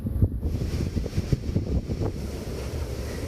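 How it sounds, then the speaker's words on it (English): Fierce storm wind gusting over an island coast with rough seas, a loud continuous roar of buffeting wind and crashing surf close to the microphone, with strong low rumbling bursts throughout. "As fierce wind gusts continue,"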